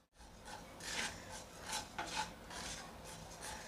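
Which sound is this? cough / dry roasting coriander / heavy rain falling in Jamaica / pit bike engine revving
dry roasting coriander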